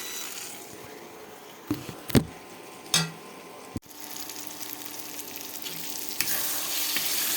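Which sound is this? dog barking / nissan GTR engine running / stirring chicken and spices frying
stirring chicken and spices frying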